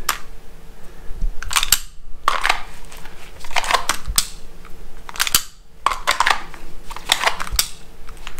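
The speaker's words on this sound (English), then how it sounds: "you can hear me hitting the gun and driving it out" A hand repeatedly slaps a pistol and snaps it out of a holster during draw practice, producing sharp clacks and rustles in a steady cycle of about six close, crisp repetitions.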